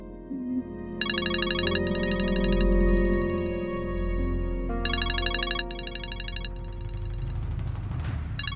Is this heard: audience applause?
no